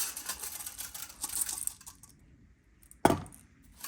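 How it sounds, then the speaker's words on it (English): A basket is set into a Joydeem low-carb, low-sugar rice cooker and rice is tipped in, giving a rustling patter followed by a single sharp clack of the basket seating, close and clear. "Add the basket, add the rice."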